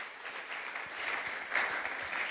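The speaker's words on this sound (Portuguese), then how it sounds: "Salve de palmas para os irmãos aqui." A church congregation claps together in a steady, moderately loud round of applause that fills the room and carries on throughout.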